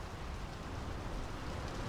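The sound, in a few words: rain in the video game Draugen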